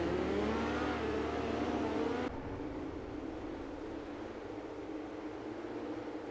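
Dirt midget race cars circling a dirt oval at a karting center under caution, a continuous engine roar heard from a distance that drops abruptly to a lower, steady drone as they pass on.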